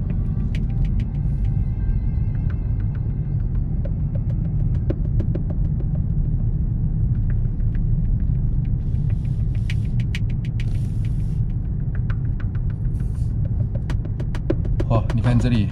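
Cars and other traffic stream along a busy city road in Chongqing near Qiansimen Bridge at around 3 a.m., a steady low rumble of passing vehicles with occasional sharper clicks and rattles, fairly distant and continuous.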